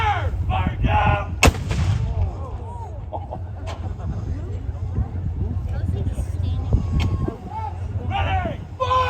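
Staghound armoured car of the Royal Canadian Dragoons firing its gun at a tank display, with two loud, sharp blank blasts standing out over a steady low engine rumble and crowd murmur, while people talk nearby.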